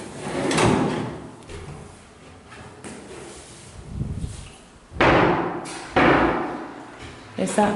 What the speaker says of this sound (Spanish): Esta puerta se separa un poquito al cerrar, o sea, no queda totalmente cerrada.